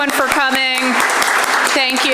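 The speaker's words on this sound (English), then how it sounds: "let's also take one moment again to applaud our panel, the Christinas, Morris, and Noble, everyone" An audience applauds a discussion panel at an intergenerational storytelling reunion, a dense spatter of clapping heard close under a voice that keeps speaking over it.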